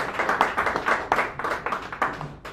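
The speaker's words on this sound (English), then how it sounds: "Let's give her a warm round of applause." Applause from a small audience at a cafe open mic, close and fairly loud uneven hand clapping from a few people, with individual claps distinct and fading out near the end.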